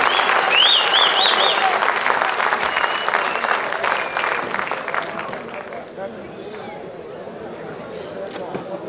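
Loud, steady applause fills a hall at a welfare trust's annual program in Rawalpindi, a crowd clapping continuously and slowly tapering while a voice speaks over it.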